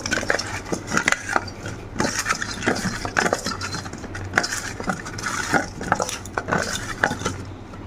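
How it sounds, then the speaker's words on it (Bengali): Turmeric powder is mixed into potatoes in a bowl, with close clattering and scraping of a utensil against the dish in an irregular rhythm of knocks and rubs. "সামান্য হলুদ গুঁড়ো, হলুদ ভালো করে আলুগুলোর মধ্যে মাখিয়ে নেব"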